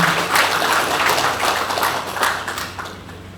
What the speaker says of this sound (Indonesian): Ya, kita berikan tepuk tangan sekali lagi.